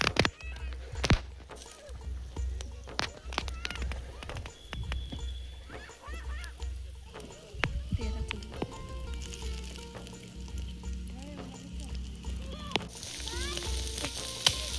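Tandoori chicken pieces sizzle and crackle in oil over charcoal at an outdoor riverside cookout, a steady close frying hiss broken by sharp pops and clicks, with faint background sounds.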